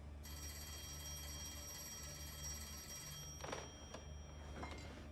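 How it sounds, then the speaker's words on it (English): An old-style telephone bell rings in a steady, continuous trill for several seconds at moderate loudness, with a few soft thuds and knocks near the end and no talking over it. "You should answer the phone, Mr. Shelby."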